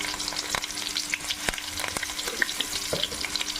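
Shallots and curry leaves fry in hot coconut oil with mustard seeds, giving a close, steady sizzle with soft crackles and the scrape of stirring.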